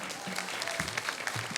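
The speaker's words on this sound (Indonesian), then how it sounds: "sekali lagi dong tepuk tangannya Desa Demule" Applause from a village youth group audience at a Balinese banjar quiz show in Desa Demulih, Bangli, a steady patter of clapping lasting under two seconds, with a few voices faintly mixed in.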